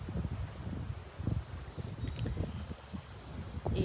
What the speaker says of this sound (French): on a la chance d'avoir le vent qui nous rafraîchit et qui nous nettoie.